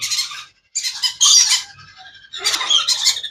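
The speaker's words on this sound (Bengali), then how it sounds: "বেশ অনেকগুলো সানকলর পাখি আসছে" Several sun conure parrots squawk in harsh, shrill bursts, close and loud, with brief gaps between calls.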